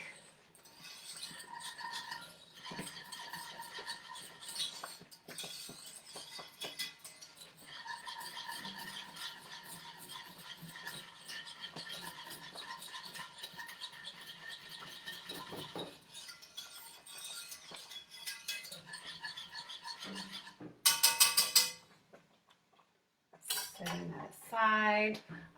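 A metal whisk scrapes and clinks rapidly against a pot as polenta cooks over low-medium heat, a busy rattling stir that runs for long stretches before a brief pause and louder clatter near the end.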